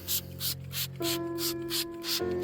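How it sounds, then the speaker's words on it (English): A spray bottle squirting water onto migmatite rock in a canyon, heard as a rapid series of short, hissing bursts, close and fairly faint over a steady low hum. "I'm so glad you brought your spray bottle."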